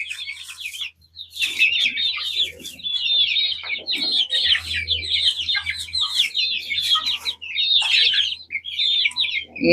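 A brood of about thirty chicks and chickens chirps and clucks without pause, with dense high peeping and tweeting and occasional lower clucks, close and steady throughout.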